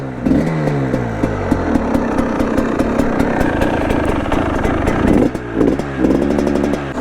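A carburetted motorbike engine, started on choke, idles loudly and close by with a lumpy, pulsing beat, rising and falling through several short revs and blips; no voices are heard.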